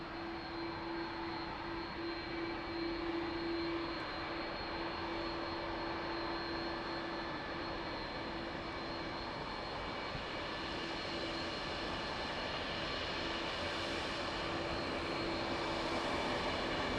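An airliner on approach to land on runway 02 at Lisbon airport, a steady, loud jet engine roar with a sustained whine, holding for the whole stretch and swelling slightly toward the end, no voices.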